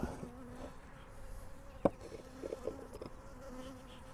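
Steady low buzzing of many honey bees up close at a hive, with a brief louder knock or bump partway through.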